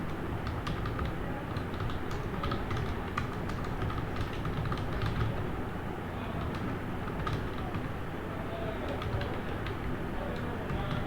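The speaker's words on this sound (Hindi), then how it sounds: "अब हम एक पैराग्राफ टाइप करना शुरू करें।" Computer keyboard typing a paragraph in a word processor, steady continuous key clatter throughout at moderate level, with faint background noise and occasional bird coos.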